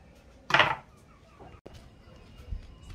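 Pineapple being chopped into small pieces for sweet Totonac tamale dough: one sharp knife strike on a board up close, then a few faint taps and quiet kitchen handling.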